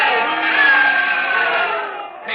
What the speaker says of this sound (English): Hey, Riley, they're booing it.